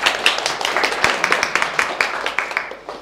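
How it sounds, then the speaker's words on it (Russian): A room full of colleagues claps to welcome new employees at a workplace gathering, with a steady patter of many hands for a few seconds and no talk. "Вот, похлопаем нашим новичкам."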